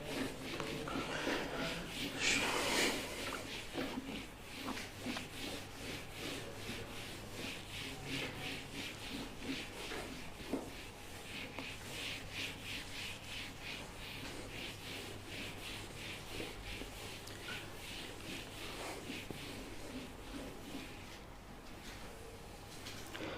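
A board is wiped and erased with continuous rhythmic rubbing, a steady swishing scrub that keeps up for many seconds at close range, fairly faint and unbroken.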